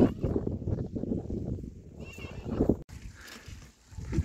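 On a steep mountain trail above a deep valley, a horse gives a brief whinny midway through, set among close, rumbling movement noise and soft murmuring.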